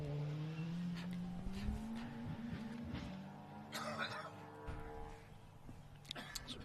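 A rally car with a sequential gearbox flat-shifts on a special stage of the New Zealand Rally Championship's Battery Town Rally Bay of Plenty. The engine note climbs and changes pitch as it shifts, with tyre noise and a voice talking over it.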